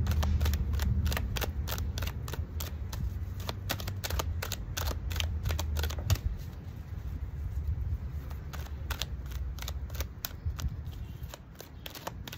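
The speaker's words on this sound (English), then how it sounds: "Shuffling these cards." Playing cards being shuffled, a rapid train of sharp riffling clicks close by, repeated in bursts over a low steady background rumble.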